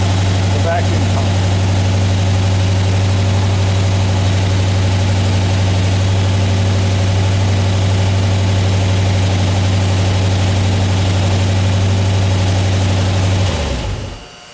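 A 1976 Corvette restomod engine idles steadily and close up while warming to temperature, with a low, even droning hum for most of the clip before it shuts off near the end.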